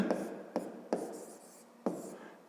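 Pen or chalk strokes writing geometry notes about angles for a fifth-grade math exercise, a few distinct taps and scratchy strokes spaced apart, close and fairly quiet, with no talking.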